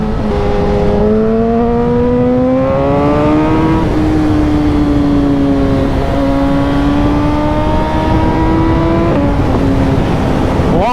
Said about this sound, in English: Keep this bike up the rev range a bit.